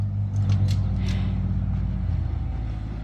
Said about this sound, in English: that noise you hear is my neighbor who showed up to till my garden